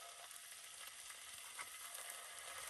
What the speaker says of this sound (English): Get that frying up